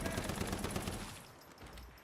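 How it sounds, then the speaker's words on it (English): Automatic gunfire bursts in the game Once Human, a dense rattling volley loud at first and tapering off over about two seconds, with no voices. "What, the burst of gunfire?"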